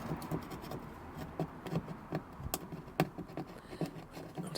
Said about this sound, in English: I'm using a scalpel and I'm just poking in, trying to find where it is, and I'm going to cut a circle